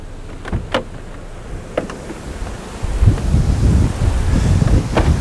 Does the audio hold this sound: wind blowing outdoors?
yes